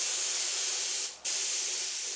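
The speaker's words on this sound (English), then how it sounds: "I'm going to use my touch-up gun and spray cobalt blue over it" A touch-up spray gun laying cobalt blue paint in an airbrushing booth gives a steady, loud hiss, with a brief dip as the trigger is released and pulled again.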